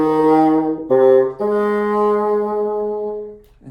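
Solo bassoon playing a short rhythmic figure of quarter, eighth and dotted-quarter notes with a tied note, clear and close, several sustained tones with note changes, alone without talk.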